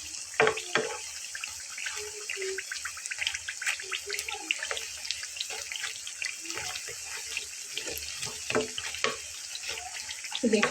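Egg chops frying in hot oil in a home kitchen, giving a steady, close sizzle with scattered crackles and pops that run through the whole stretch, with no talking.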